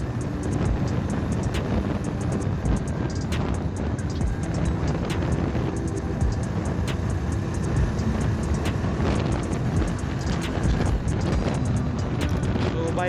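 Jawa Perak motorcycle engine running steadily with a smooth, sporty exhaust note rather than a thump, a dense continuous rumble with wind noise on the microphone throughout.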